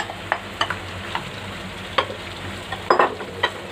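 Pre-fried chicken tossed into sizzling masala, with repeated sharp spoon scrapes and clinks against the pan over a soft continuous fry, close by.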